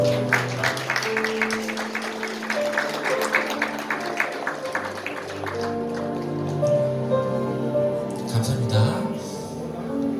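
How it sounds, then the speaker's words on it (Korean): Guests at a Korean wedding ceremony applaud the groom, a burst of clapping close by that fades into quieter room noise and talk. "신랑에게 여러분들 뜨거운 박수 다시 한번 부탁드리겠습니다."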